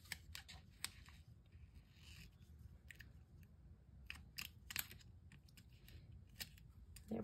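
Scissors snip through paper while a weekly planner is decorated, in a quiet setting. Crisp, close cuts come in irregular bursts of a few snips each.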